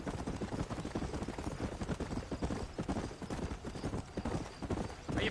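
Horse hooves clip-clopping at a quick, steady trot in Red Dead Redemption, close and rhythmic and continuing throughout, ending in a brief louder burst.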